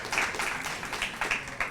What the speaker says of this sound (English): That deserves a hand clap.